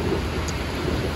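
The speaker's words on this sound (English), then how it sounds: "I just really apologize about that thunder in the background" Distant thunder rumbles steadily beneath a broad wash of storm noise, a low continuous roll with no clear peaks, faint and far off rather than a close crack.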